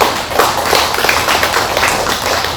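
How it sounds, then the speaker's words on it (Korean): An audience at a book talk claps together in a dense, steady burst of applause lasting a few seconds, close and fairly loud with no voices over it. "박수 한번 드립니다."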